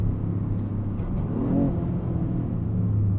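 A 2026 Toyota GR Corolla's engine, amplified by active sound control, hums and revs with a synthetic, droning rumble inside the cabin, steady and loud, with a brief rise in pitch midway.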